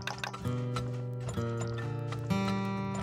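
Horses and wagons in the video game Turmoil make a game sound: hoof clip-clops and clunking mechanical noises over a sustained droning musical tone that shifts pitch a few times. No one speaks.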